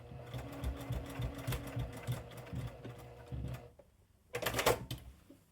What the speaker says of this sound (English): I'm just going to put a stay stitch.